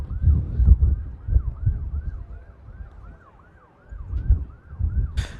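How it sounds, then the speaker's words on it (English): Fire engine sirens at Manchester Airport give a repeated rising-and-falling wail at a steady rhythm, moderately distant, over gusty wind buffeting the microphone, with a brief sharp noise at the very end. "Sounds like them fire engine sirens are going again."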